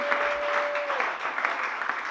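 A congregation at a Sunday church service claps in a brief, dense burst of applause, with a faint steady tone underneath.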